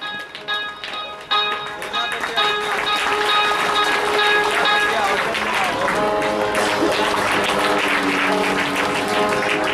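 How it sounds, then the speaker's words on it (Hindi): A large audience at a religious stage event bursts into sustained applause that swells and holds steady, with music and voices mixed underneath. "सभी जोरदार ताली होनी चाहिए हर एक माले पे"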